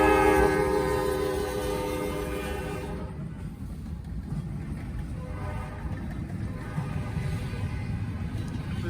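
Freight train led by locomotive 4380 sounds a loud, sustained horn blast for about three seconds, followed by the steady rumble of the passing train and railcars.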